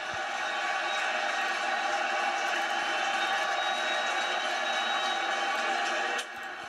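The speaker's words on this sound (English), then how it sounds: "And the crowd is going crazy right now." The crowd at an NLDS baseball game between the Phillies and the Mets roars loudly and continuously in a stadium, a broad steady wash of cheering.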